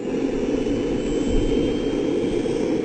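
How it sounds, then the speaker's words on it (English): The four miniature jet engines of a 65-kilo model airliner run together as a loud, steady turbine roar with a rumbling low end, constant throughout and without voices. "It takes 62 metres of wiring, 75 electronic components, 20 litres of fuel and 4 miniature jet engines to power this 65-kilo beast."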